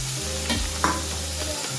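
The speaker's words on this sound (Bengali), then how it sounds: "এবার পেঁয়াজটাকে ভালো মতন করে কম আছে একটু সময় নিয়ে আমি ভেজে নেব।" Finely chopped onion sizzles in a pan of hot oil, a close, continuous frying hiss with a brief scrape of stirring.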